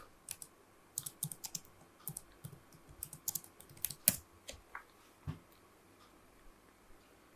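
Keys clack on a computer keyboard as a search is typed, an irregular run of light, close taps in bursts with short pauses, quiet and without any voice.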